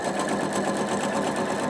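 A sewing machine stitches down a quilt block in a brief, steady burst of fast, even needle chatter, close and alone with no voices.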